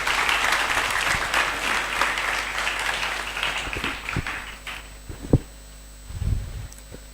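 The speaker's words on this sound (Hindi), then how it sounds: "तालियों के साथ स्वागत कर सकते हैं पास्टर का।" An audience claps steadily for several seconds at a Bible college graduation ceremony, dense applause that gradually thins out into a few scattered claps and a brief thump near the end.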